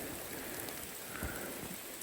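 Rain falling in a Carpathian forest, a soft steady patter of drops on leaves and ground with a few louder individual drips, faint and even throughout.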